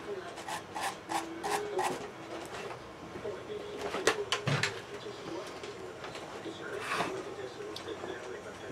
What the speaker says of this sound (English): So I'm using a metal brush.